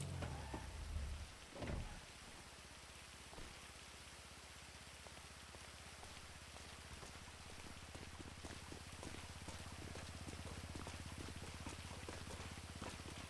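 Video-game rain falls as a steady, soft hiss with scattered drops, faint and continuous throughout, preceded by a brief low rumble near the start.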